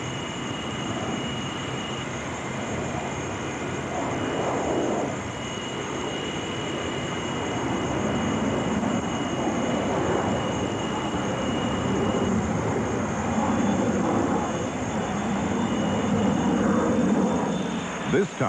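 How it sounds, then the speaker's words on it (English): The North American XB-70 Valkyrie test air vehicle number 1 takes off on its second flight one autumn morning, a long, heavy jet roar rumbling steadily and building slightly under a narrator's voice. "On an early autumn morning, pilot Al White rotated test air vehicle number 1 into flight."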